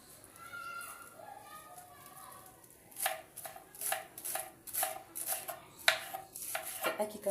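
Knife chopping vegetables on a cutting board in a home kitchen while making githeri, a quiet stretch with faint voices, then a run of crisp, fairly regular close-up chops.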